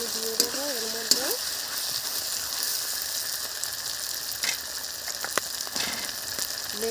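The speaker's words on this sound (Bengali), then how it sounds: "মাংসটাকে আমি ঢেলে দিলাম।" Marinated duck meat hits a hot pan in a home kitchen and sizzles continuously and up close, with scattered clinks and scrapes of stirring over the frying hiss.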